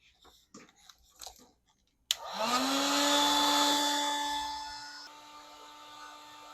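An old corded hot-air tool, about 15 to 20 years old, switched on after a few small handling clicks, giving a sudden steady whooshing fan roar with a whining motor tone that holds and then eases slightly lower.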